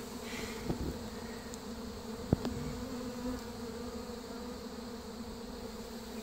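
Honeybees from a colony being removed from a mobile home in Davenport, Florida, drone in a steady, continuous buzz at close range, broken by a couple of brief knocks.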